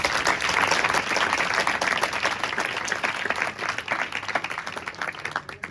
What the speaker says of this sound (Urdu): کوئی تالیاں بجا سکتا ہے؟